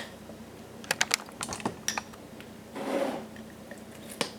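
Thick sourdough starter made from bleached flour and water is stirred, giving sticky clicks and wet squelches in short bursts, then a longer gloopy smear, close and quiet with no talking.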